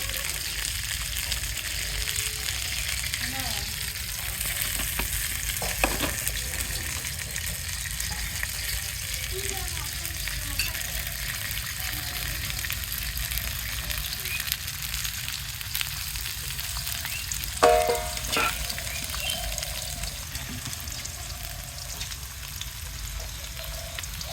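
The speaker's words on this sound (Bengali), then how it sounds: "পেঁয়াজগুলো ভাজা হয়ে গেছে হালকা ভাজে নিয়েছি" Onions fry in a pan with a continuous, even sizzle, close and moderately loud, broken by an occasional stir or rattle, while fish curry with drumsticks is cooked.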